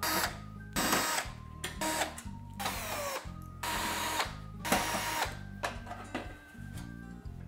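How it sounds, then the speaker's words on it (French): A power driver whirs in repeated bursts while the casing of an oven is dismantled, with short pauses and scraping clatter between the loud, close runs and no talking. "Donc je vais attaquer par le démontage de la carcasse,"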